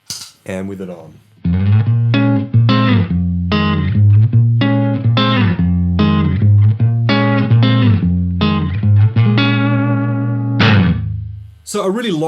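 Guitar run through a Keeley Omni Reverb pedal on a tight room reverb setting, a sequence of distinct plucked notes and chords played steadily and close, each decaying with a short ambient tail, no speech.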